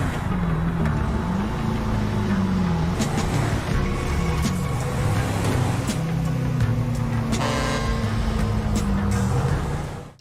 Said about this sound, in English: And this is how Jimmy's BJ sounds.